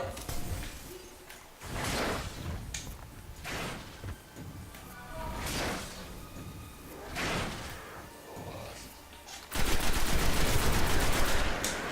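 A weapon fires in the PS4 game Destiny as repeated loud, close bursts of rapid shots and heavy impacts over a continuous game din, ending in a sustained, harsher volley.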